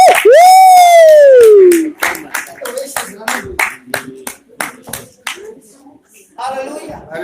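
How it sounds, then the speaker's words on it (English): A church congregation in London claps in a fast, steady rhythm of sharp claps after a long sung or shouted note from a single voice, with a few scattered voices and cheers mixed in. "Let's clap for Jesus."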